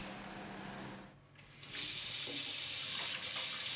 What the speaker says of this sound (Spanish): Al consumista le encanta el sonido del agua corriente